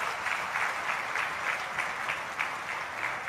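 Audience claps for army soldiers during a defence minister's speech in Lucknow, a steady, even wash of crowd applause heard from a distance, with no voices over it.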